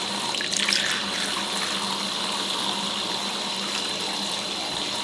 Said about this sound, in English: So I'll just keep putting it under the water,